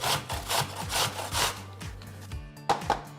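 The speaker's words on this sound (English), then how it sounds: "You can either chop it up or you can grate it up." An organic apple with the peel left on is grated by hand, making a series of rhythmic, close rasping strokes, roughly five in a row, followed by a pause and a couple of lighter scrapes.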